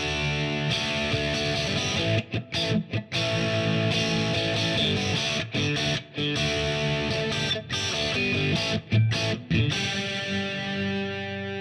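Distorted Fender Stratocaster with the S2 switch engaged so all three noiseless pickups are on, playing a thick, sustained overdriven riff with brief choppy gaps, loud and up close, with no voices.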